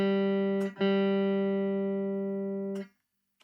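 Open guitar strings are plucked in turn, a few clear notes ringing out close and sustaining before fading into silence.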